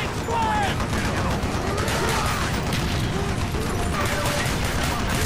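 Rapid gunfire from Call of Duty: Black Ops fills the scene, a dense continuous barrage of shots and bursts at close range with mechanical clatter underneath, steady and loud throughout.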